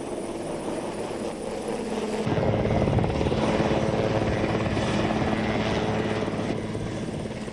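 A helicopter approaching a helideck, its heavy rotor thrum growing louder and fuller, a steady droning roar that swells partway through and stays close.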